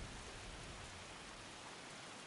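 Steady, dense rain pours in Sifu, a broadband wash with no pauses that stays loud and even throughout, without any voices.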